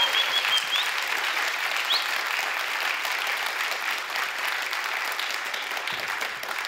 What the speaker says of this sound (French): si vous applaudissez vraiment très fort